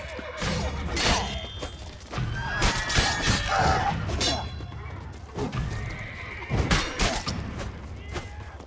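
In a video game scene, a horse neighs loudly amid hoofbeats, crashing impacts and shouting voices, with more whinnies following in a busy, chaotic scene.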